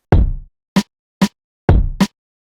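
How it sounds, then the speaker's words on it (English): A dry snare sample and a rim shot sample from a cinematic beat, effects bypassed: a full-bodied snare hit, two sharp rim clicks, then the snare and a rim shot again in quick succession, close and loud with no talking. "So with the effects turned off, the snare sounds like this."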